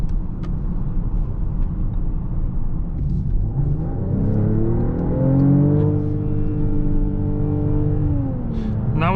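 Mercedes-AMG GLE 53 Coupé cruising in comfort mode with no exhaust note, just a steady road rumble and engine hum that rises through a shift with whining harmonics, heard from inside the cabin.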